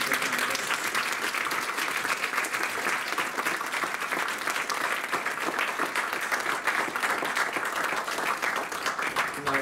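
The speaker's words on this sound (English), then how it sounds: "can we give one last round of, of applause for our wonderful" Sustained audience applause closing an equality, diversity and inclusion panel at a quantum careers event, steady dense clapping filling the whole stretch at an even, loud level with no break.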